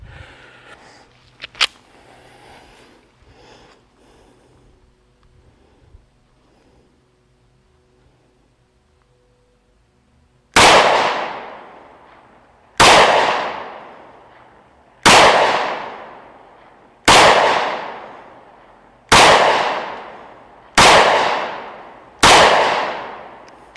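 An ATI Moxie FXH45 hybrid 1911 pistol fires seven loud, sharp shots at about two-second intervals at a 15-yard range, after a stretch of faint background noise.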